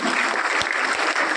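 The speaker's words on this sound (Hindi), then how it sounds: "एक बार अभिजीत के लिए फिर से जोरदार" Applause for a student at a school firefighting workshop, a short burst of lively clapping from a group, close and fairly loud, with no talk.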